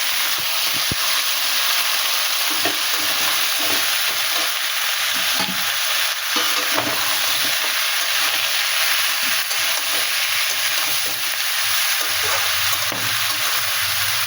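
Mixed vegetables, five or six kinds, hit a hot pan after shrimp has been fried, giving a steady, bright, close sizzle with faint stirring scrapes throughout.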